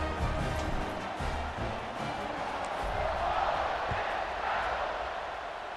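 Steady stadium crowd roar in the video game EA Sports College Football 26, a continuous low rumble of many voices at a distance, even in level throughout with no distinct cheers.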